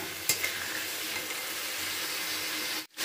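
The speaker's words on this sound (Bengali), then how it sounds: "এই মশলাটাকে ভালো করে কষিয়ে নিতে হবে" Masala for a Bengali jackfruit-and-prawn curry sizzles steadily as it is stir-fried in a pan, with a brief utensil clink near the start, a continuous frying hiss, and an abrupt cut near the end.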